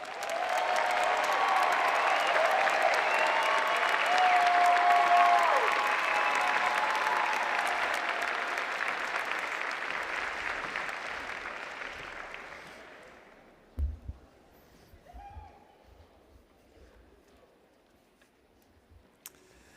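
Audience applause for 2024 university graduates at a commencement ceremony, a loud sustained wash of clapping that swells, holds for about twelve seconds, then fades out into quiet scattered sounds.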